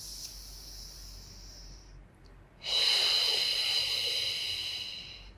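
During a beginner Pilates core workout, a person takes a soft, close, airy breath and then follows it with a louder, longer, hissing exhale.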